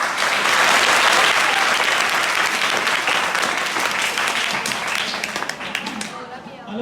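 An audience at a business learning talk bursts into strong, sustained applause as a speaker is called to the stage, a dense wash of clapping that slowly thins and fades out.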